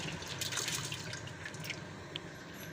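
Soaked mixed lentils tipped into a cooking pot with water, giving a steady wet splashing, dripping pour that runs continuously at moderate level throughout, alone without talk.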